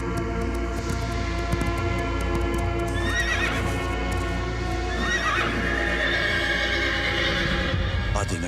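A horse whinnies twice amid steady clip-clopping hooves in a jungle action adventure scene, loud and close over a constant dense background rumble.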